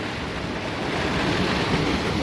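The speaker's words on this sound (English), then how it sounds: "Underground falls." An underground waterfall in a cave gives a dense, constant roar of rushing water, loud and close with no breaks.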